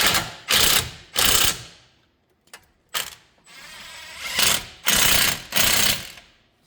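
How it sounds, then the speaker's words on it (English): Ratchet wrench tightening brake caliper bolts on a 2015 Kia Sportage during front wheel bearing work, heard as several loud, close bursts of rapid clicking separated by short pauses, with no talking. "Tighten up these last two brake caliper bolts."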